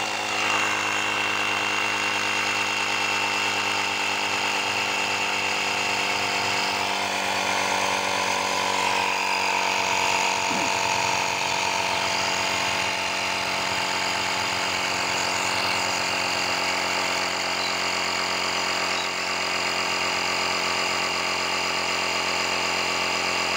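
A Japanese-made Toyota electric air pump inflates a motorbike tire, giving a loud, steady mechanical drone with a constant hum that runs unbroken throughout, no voices.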